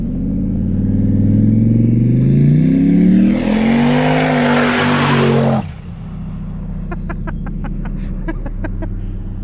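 A turbocharged LS-swapped Ford Ranger on studded drag racing tires runs on ice, its engine loudly revving up with a rising roar and then cutting off, leaving a lower idle with brief rapid clicks.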